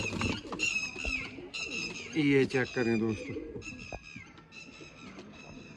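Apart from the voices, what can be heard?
pigeons, Sialkot pigeons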